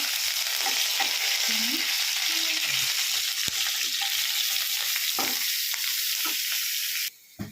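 A ground paste of coconut, onion, ginger and green chilli fries in a pan, crackling loudly and steadily close up while a spoon stirs and scrapes through it.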